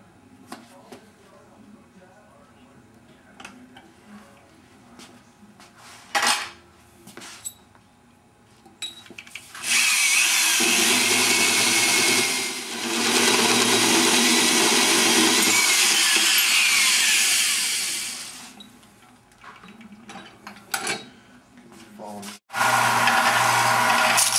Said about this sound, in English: Position the tube center line again with the center line of the hole saw and cut the notch.